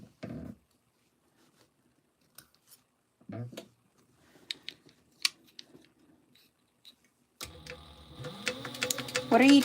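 A sewing machine stitches a 3/8 inch seam allowance on fabric: a steady mechanical whirring run kicks in after scattered snips and small handling clicks in a quiet room.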